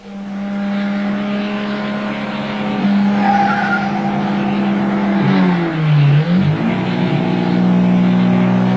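Race cars roar past in a road race near the Nevada state line toward Reno, engines droning loudly as tires squeal through a long skid midway, with no talk over them.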